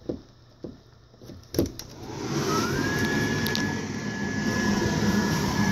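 Blower motor of a 12ft Christmas airblown inflatable Snoopy plane starting up after a few thumps of handling, then a steady loud whirring hum with a rising whine that holds constant.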